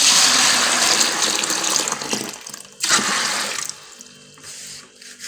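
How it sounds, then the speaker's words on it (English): Water poured from a tap or jug over soaked soya beans in a bowl, a loud gushing splash that tapers off, stops briefly, then resumes in a second, shorter pour, close by and without talk. "add enough water to cover the soya bean."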